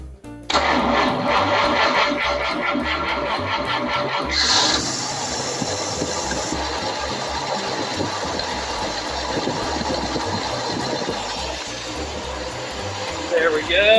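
A 1950 Cadillac engine cranks and fires, then runs on with a steady rough idle for over ten seconds, close and loud, with some background noise and no clear talk.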